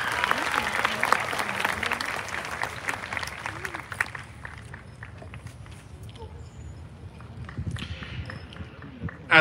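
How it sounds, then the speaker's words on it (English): Audience applause at a graduation ceremony, a broad wash of clapping from a crowd that is dense at first and then thins into scattered claps, with murmuring voices underneath. "give them a huge round of applause"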